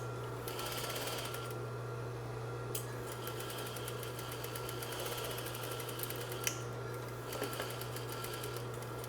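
A sewing machine runs steadily, stitching forward and back through fabric along a continuous lap placket, its motor hum and needle chatter continuous, with brief pauses and a few small clicks.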